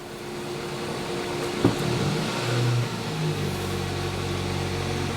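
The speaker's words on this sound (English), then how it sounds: "as I give the engine a little bit more speed" A car engine is revved slightly above idle during diagnostic testing. It holds a steady mid-pitched drone with a brief swell in the middle, close and continuous, with no talking.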